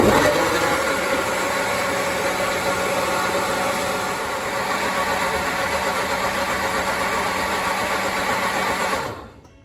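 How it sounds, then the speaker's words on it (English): A Ninja Foodi hot and cold blender runs on high, grinding okra, plantain and oats into smooth porridge with a loud, steady motor whir, then winds down and stops at the very end. "So that's it, finished blending."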